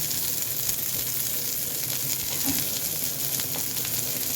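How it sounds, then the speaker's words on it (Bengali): Garlic, green chillies and onion fry in hot oil for a rui fish bharta, giving a steady close sizzle with faint stirring throughout and no voices. "তেলের মধ্যে দিতে রসুন আর কাঁচামরিচ আর একটু পেঁয়াজ ভেজে নেবে"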